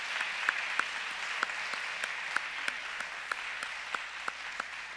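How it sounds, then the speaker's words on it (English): An audience at a Christian school grammar chapel applauds second-grade speech meet runner-ups, a soft, moderately distant patter of clapping with a few sharper individual claps standing out. "Please give a round of applause for our 2nd grade speech meet runner-ups."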